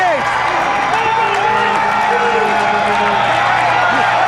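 The crowd at a Pan Am rugby match between Canada and the USA cheers and applauds in a loud, steady roar, while a commentator talks over the top.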